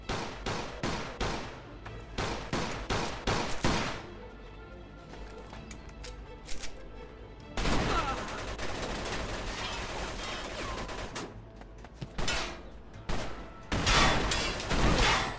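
Gunfire in the video game Mafia 2 comes as rapid bursts of sharp shots in a firefight, with gaps and a long sustained volley in the middle, loud and close with no talk.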